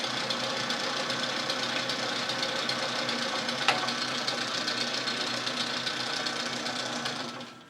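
Boxford metal lathe with a digital readout taking a finishing cut on mild steel, a steady loud mechanical whine and hum that runs unbroken before winding down at the end, with no voices.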